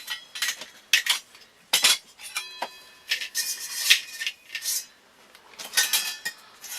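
A metal wood gas stove is handled outdoors with a bushcraft kit, giving bursts of close metallic clanks and clinks with ringing tones, separated by short quiet gaps.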